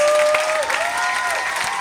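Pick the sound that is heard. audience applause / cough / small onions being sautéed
audience applause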